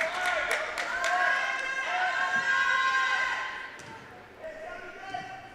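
Crowd noise swells and murmurs at a girls' high school basketball game in a gym, a steady hubbub with squeaks and bounces, and a commentator talks over it.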